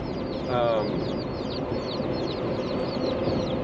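Young chicks picked up on a road trip to Iowa chirp and peep in quick, overlapping high calls, fairly close and continuous, with a murmur of background sound beneath them.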